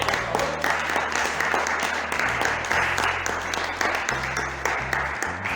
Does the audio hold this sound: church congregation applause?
yes